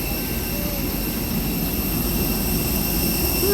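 Airbus A320ceo airliner with CFM56 engines, a steady loud jet engine roar with broadband rumble and a faint high whine holding constant throughout.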